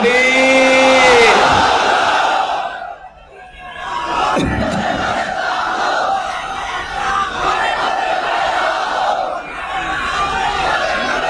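At an Islamic waz sermon, a lone voice calls out the takbir before a large crowd answers with a massive, loud chanted roar that swells and carries on.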